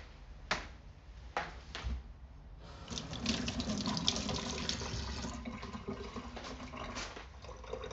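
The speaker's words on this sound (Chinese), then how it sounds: "洗一下筷子。" Tap water runs into a sink as chopsticks are rinsed, a steady close splashing stream after a few sharp knocks and clatters at the start.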